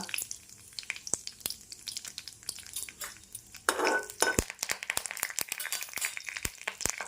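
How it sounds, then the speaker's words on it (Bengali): Dried red chillies hit hot oil in a pan for a Punjabi-style methi kadhi with fenugreek leaves and yogurt, giving a short burst of sizzling among sharp spoon clicks and scrapes against the pan. "এইবারে দেব শুকনো লঙ্কা"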